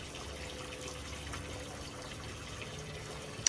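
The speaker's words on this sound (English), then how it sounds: "while I'm draining all of the equipment and the waterfall line" Water drains steadily from pool equipment and a backyard waterfall line being winterized, a faint, even trickle and gush running continuously with no pauses.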